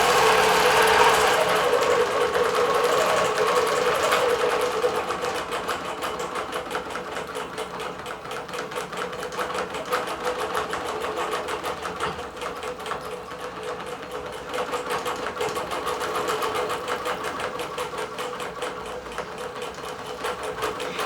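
A Bernina Q24 computerized quilting machine stitches a software design in thread on a black flat-cotton border, making a steady, rapid mechanical whirring and ticking that runs throughout. It is moderately loud and close, with no talking.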